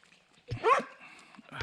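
A dog at an RV stop barks at distant horses, giving one sharp close bark followed by a short whine and a softer second yip, loud against a quiet outdoor background.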